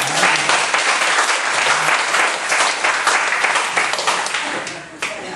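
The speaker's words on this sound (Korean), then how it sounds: "우리 박수 한번 쳐주세요." A congregation claps during an evening church sermon, dense sustained applause filling the room for several seconds before tapering slightly near the end.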